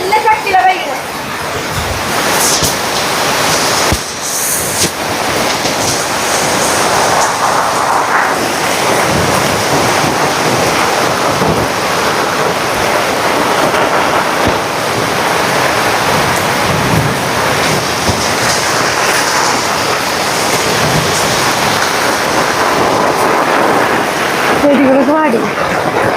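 Heavy rain pours down hard and strong, making a dense, continuous roar for the whole stretch, with wind gusts buffeting the microphone.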